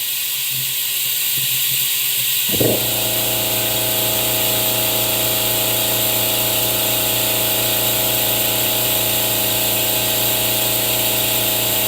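A hand pump extracting engine oil from a 2006 MINI R53 Supercharged makes a steady mechanical whir with a hissing, sucking tone, starting abruptly and running on evenly, close by, after a quiet start.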